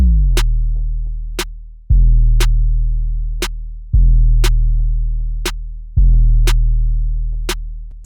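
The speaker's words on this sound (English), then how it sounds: "Next up on the agenda we have this snare that I laid down." Sharp snare hits panned in a type beat built in FL Studio, cracking twice per bar over rumbling 808 bass notes that repeat every two seconds, loud and dry with no talking.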